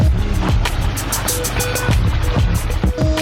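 A backyard pond waterfall splashes loudly and continuously, a close, dense wash of falling water with no talk over it.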